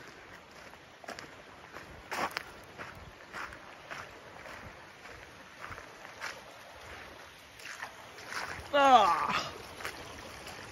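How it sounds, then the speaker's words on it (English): Footsteps wading through swamp water outdoors in springtime, soft irregular splashing and sloshing with a louder burst near the end, heard faintly amid wind and a brief voice. "that's me walking through water"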